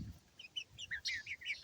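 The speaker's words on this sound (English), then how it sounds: "See, that's the rooster right there." Chickens and a rooster in a chicken tractor give a quick series of short chirping, clucking calls, faint and close together, over a low rumble.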